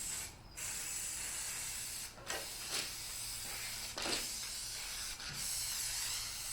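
An aerosol spray can coating a wrapped surface, a steady close hiss broken by a few short pauses as the nozzle is released and pressed again.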